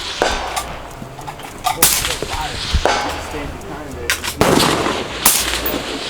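Rifles fire at an outdoor shooting range at Ben Franklin Range, sending about five loud, sharp cracks at irregular intervals, each followed by a brief echoing tail.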